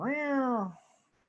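A human voice imitates a cat's meow: one drawn-out, close, tonal meow that trails off quickly.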